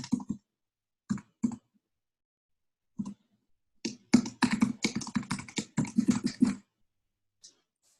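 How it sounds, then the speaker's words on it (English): Keys clack on a computer keyboard in close, crisp strokes, first a few scattered taps, then a quick burst of steady typing, ending in a last lone tap. "type in your username and password"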